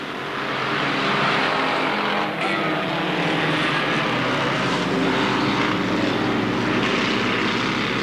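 Racing cars lap Alwalton Raceway at a 1983 meeting, their engines roaring steadily and loudly as they pass close by, a continuous droning blare with no voice over it.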